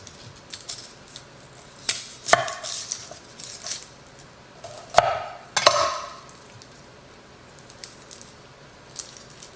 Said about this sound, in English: chopping up on the onions.